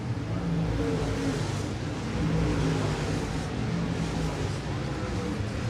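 Race cars running door to door in a dirt track feature race, a continuous engine roar with rising and falling revs heard from trackside, steady and moderately loud.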